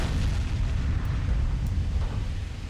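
2-inch naval guns fire rapidly in the naval warfare game Ultimate Admiral: Dreadnoughts, heard as a dense, continuous low rumbling barrage of booms with no clear gaps.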